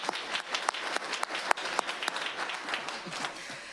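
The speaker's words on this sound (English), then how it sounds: "we can still clap it up for them, though" Applause for an absent student award recipient at a Rockford Public Schools board meeting, a room of people clapping steadily with sharp individual claps standing out, moderately distant and fairly soft throughout.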